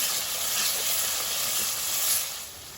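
Ginger garlic paste frying with onions in a pan for Bihari bhuna chicken gives a steady, close hiss and sizzle that holds evenly for nearly three seconds, with no talking.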